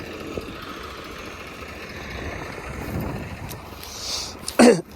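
An old 1995 New Holland 855 tractor engine runs at a steady low idle, moderately close, ending with a short cough nearby.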